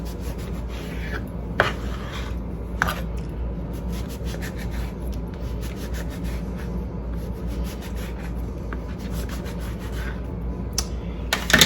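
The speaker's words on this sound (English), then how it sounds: "We're going to cut up the remaining pieces of our bread, the other 4 slices or whatever." A knife saws through slices of bread for a French toast casserole, a steady rasping scrape with repeated back-and-forth strokes and a few sharp knocks, close and fairly quiet, with no talking.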